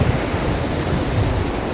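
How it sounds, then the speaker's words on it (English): Strong mountain wind gusting at around 40 to 50 miles per hour near Salto Grande, a loud, continuous roar buffeting the microphone throughout, with no talking. "And again, it's really windy."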